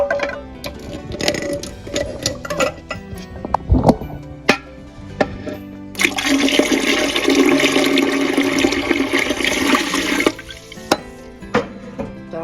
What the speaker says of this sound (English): go with 2 to 3 inches of water in your canner at the bottom